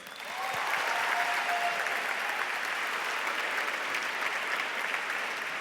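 Sustained applause from a large audience, steady and loud after a quick swell, with scattered cheers mixed in.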